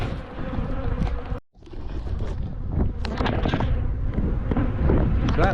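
Agitated honey bees swarm around an apiary, a loud, close, continuous buzzing that swells and wavers, briefly cutting out once, with wind buffeting the microphone.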